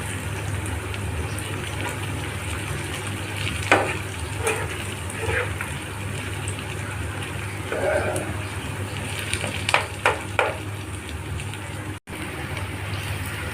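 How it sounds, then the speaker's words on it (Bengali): Onions fry with salt in a pan, a soft, steady sizzle with scattered light crackles and a few clinks from stirring, fairly quiet and continuous. "পেঁয়াজটা ভাজা হয়ে গিয়েছে"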